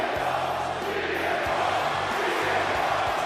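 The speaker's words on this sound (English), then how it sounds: "You hear the crowd, you hear the ovation for CM Punk." Video game arena crowd giving an ovation to CM Punk in WWE 2K25, a steady dense roar of many voices filling the space throughout, with low rumbling pulses underneath.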